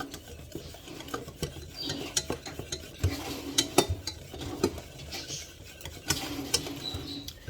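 A butter, flour and milk sauce being stirred in a pot, with soft scraping and swishing strokes in an irregular rhythm and occasional sharper clicks of the utensil, close and fairly quiet.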